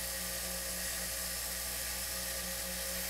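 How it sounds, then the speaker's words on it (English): Angle grinder dressing up steel trailer hitch brackets during a hitch install, a steady loud high-pitched whine running continuously and close up, with no talking. "I may clean them up with the grinder a little bit."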